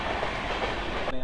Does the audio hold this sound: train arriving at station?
yes